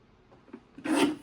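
A paper trimmer slices through a paper mat in one short rasping stroke, quiet faint handling first, then a brief close scraping swish at the end.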